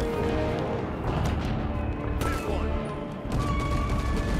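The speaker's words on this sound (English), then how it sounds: "Oh, gunshots." Dense, continuous gunfire and clattering impacts from a Halo 5 Guardians match, loud and chaotic throughout with a voice talking over the din.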